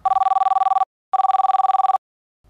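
A classic telephone bell rings in two clear bursts, each a rapid trilling electronic ring of under a second, separated by a short silence, loud and close with no voices.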